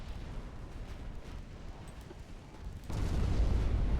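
A warship flash fire explosion in the naval game Ultimate Admiral Dreadnoughts, a loud low rumbling roar that suddenly swells and holds, over continuous background battle noise.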